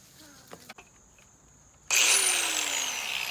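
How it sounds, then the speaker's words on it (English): A cutoff wheel bites into the body of a crashed 2006 Mercedes Sprinter van, starting abruptly as a loud, sustained high-pitched grinding whine after a few quiet clicks and light handling noises. "I got a cutoff wheel here"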